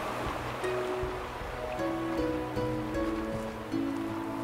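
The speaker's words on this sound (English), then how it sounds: "Whoa. Waterfalls. Very dreamy." Waterfalls in the Slime Rancher video game give off a steady, soft rushing wash of water, with faint tonal game sounds layered over the top.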